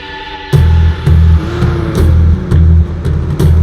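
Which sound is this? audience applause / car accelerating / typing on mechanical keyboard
car accelerating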